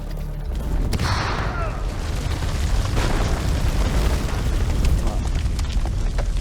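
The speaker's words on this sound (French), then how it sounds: "Oh la grenade." A grenade goes off in the video game House of Ashes, a heavy booming blast followed by sustained rumbling and crackling debris noise.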